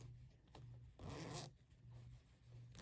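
A clothing zipper on a pair of sewn office pants is pulled once in a quick, close, crisp zip lasting about half a second, amid a quiet room with low hum.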